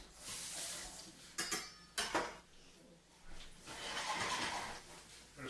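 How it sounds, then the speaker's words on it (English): Sliced onions go into a pan for chicken soup, with a few sharp clanks of utensil against the pan followed by a rising, moderate sizzle and stirring, no voices. "pick up your onions, give them in your pan, turn up your heat a little bit"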